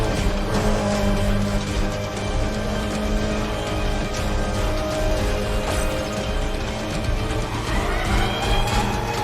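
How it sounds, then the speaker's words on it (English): A Lamborghini V10 engine, the same one as the Gallardo, roars steadily in the Need for Speed: The Run racing game, a loud sustained drone with shifting pitch and faint tire noise, no talk. "that already sounds more Lambo than what it does when I actually drive it"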